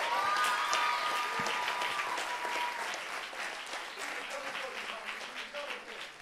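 A church congregation claps hands together at a worship service, a dense, steady applause lasting throughout, with a few raised voices and whoops near the start and a slight tapering toward the end.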